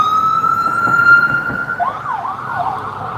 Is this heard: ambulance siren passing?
yes